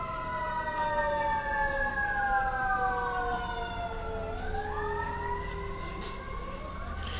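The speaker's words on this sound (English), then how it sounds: "There's sirens" Emergency vehicle sirens wailing outside, long sweeping tones that slide down and rise again, fairly loud and steady throughout with no talk over them.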